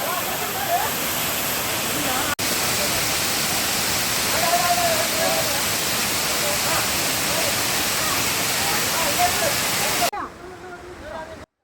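Roaring waterfall in Palakkad, a loud continuous wash of falling water with a voice briefly audible over it, then the roar drops away sharply near the end.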